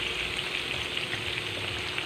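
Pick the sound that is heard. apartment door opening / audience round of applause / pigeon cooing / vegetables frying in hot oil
vegetables frying in hot oil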